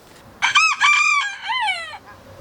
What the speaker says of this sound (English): rooster, who most likely will be screaming his head off through a lot of this video